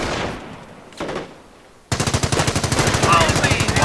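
Rapid rifle and machine-gun fire in the World War II strategy game Company of Heroes: a couple of loud bursts, then a dense, steady rattle of close shots under a brief shouted voice.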